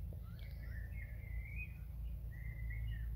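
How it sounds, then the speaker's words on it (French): Small bird chicks chirping from a nest outdoors in a garden, thin high tweets in two short bursts over a steady low rumble of background noise. "Un petit oiseau."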